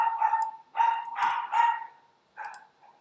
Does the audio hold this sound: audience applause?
no